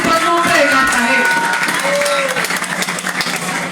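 A crowd at a youth gathering in Cartagena claps and cheers, while a voice speaks loudly over the applause throughout.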